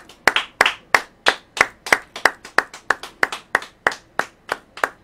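A church congregation claps in a slow, even rhythm, about three claps a second, crisp and close, sustained for several seconds without voices.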